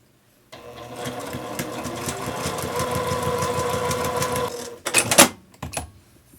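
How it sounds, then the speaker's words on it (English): Quilt seam being stitched a quarter inch from the fabric edge on a sewing machine, a steady rapid mechanical whirr running about four seconds close by, then a few sharp clacks as it stops. "you're going to sew 1/4 inch all the way down"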